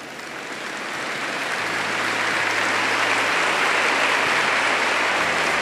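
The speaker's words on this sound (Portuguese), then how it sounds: "Aplauda mais forte" Congregation applause at a Catholic church youth gathering, a dense steady wash of clapping that swells in the first second and holds loud and even, with a low organ-like hum beneath.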